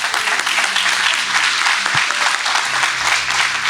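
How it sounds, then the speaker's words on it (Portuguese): A church congregation applauds during an evening Sunday service, dense continuous clapping from a crowd that stays loud and even throughout, with a brief low thump partway through. "Vamos aplaudir a Jesus."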